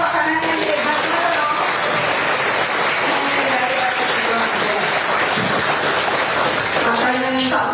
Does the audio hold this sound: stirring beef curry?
no